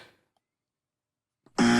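A loud quiz buzzer blares suddenly after a near-silent pause, a harsh, steady electronic tone cutting in at the end.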